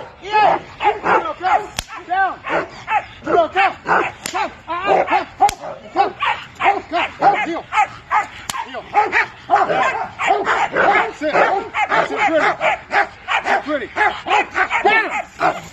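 A dog doing protection work barks and yips repeatedly in quick bursts, close and loud, with excited whimpers mixed in throughout.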